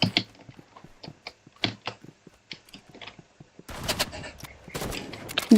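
Rapid gunfire in a video game shootout with a shotgun, AR and Shorty in use: bursts of sharp shots, then a dense volley of overlapping blasts toward the end, loud and close.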